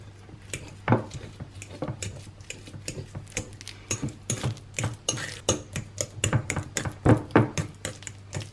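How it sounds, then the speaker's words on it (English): Very ripe bananas are mashed in a bowl for almond flour banana bread, with a utensil scraping and clinking against the bowl in irregular rapid taps that grow busier and louder toward the end, with no voices. "I'm going to mash them until we've got mashed banana"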